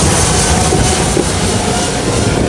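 An airplane landing at JFK airport, heard as a steady, loud broadband roar that stays constant throughout with no voices.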